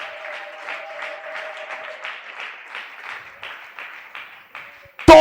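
A church congregation applauds at a Sunday worship service, rhythmic group clapping that carries on under a voice before a sharp loud burst near the end.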